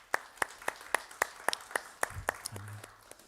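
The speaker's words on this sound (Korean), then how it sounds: "우리 감사의 박수를 좀 드렸으면 좋겠습니다" A church youth congregation gives slow, evenly spaced single claps, about ten distinct claps at a steady rhythm, fairly faint and roomy, with a low voice murmuring briefly near the end.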